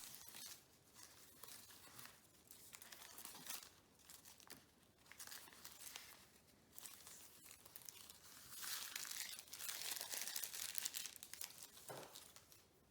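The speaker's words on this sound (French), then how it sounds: "Tout d'abord, il faut retirer le film plastique." Protective plastic film being peeled off a badminton overgrip, giving soft crinkling and tearing rustles in close irregular bursts, fairly quiet, with no talking.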